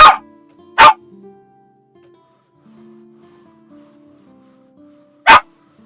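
A dog in the Blacksmith Master video game barks three times, sharp and loud: two barks close together at the start and one more after a pause, over soft background music tones.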